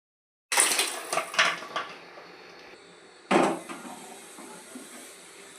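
Metal cooking pots clatter and scrape as one is set down and swapped for another, followed by a second louder clank and a soft hiss.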